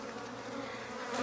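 A close swarm of honeybees around an opened nuc hive drones in a steady hum that swells slightly near the end, alone without voices.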